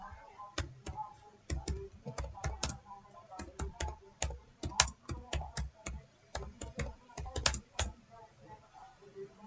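A ChatGPT prompt is typed on a computer keyboard, with close, crisp keystrokes arriving in quick irregular bursts and short pauses, and faint background noise throughout.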